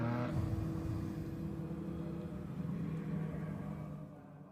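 Lotus Cup racing cars roar together at a standing start at the Nürburgring, a loud, sustained engine rumble that stays steady throughout with no break.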